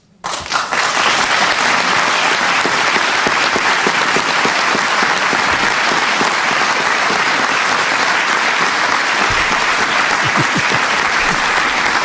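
Enthusiastic crowd applause fills an audience hall, a dense, loud and continuous wave of clapping that rises quickly and holds steady for about twelve seconds without any speech.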